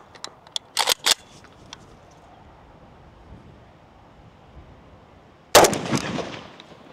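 Shots from a PSA Krink rifle outdoors: a quick series of sharp cracks early on, then after a quiet pause a single loud blast with a lingering rumble.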